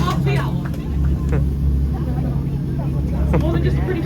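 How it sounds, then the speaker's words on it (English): A canal boat engine on a Copenhagen tour hums as a steady low drone throughout, close and continuous beneath people talking and chatting on board. "The engine's whirring."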